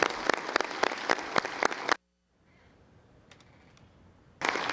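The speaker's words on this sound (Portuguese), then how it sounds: "uma calorosa salva de palmas à história, à vida, ao presente e ao futuro da TV Record" Applause rings out at a formal solemn session of Brazil's National Congress, dense clapping from a large audience that cuts off sharply, leaving a faint room hush before the clapping swells back in.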